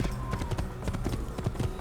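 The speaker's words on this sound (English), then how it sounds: "So riding a horse is really easy" Horse hooves clip-clopping in a steady galloping rhythm while riding in the Assassin's Creed game, close and continuous over ambient background sound, with faint music underneath.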